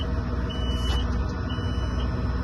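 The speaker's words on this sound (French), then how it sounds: "Je pense que c'est un tracteur avec de l'air, c'est pour ça qu'il bip" A tractor with air brakes sits idling with its engine running, a low rumble under a faint, intermittent high-pitched electronic beep repeating a few times.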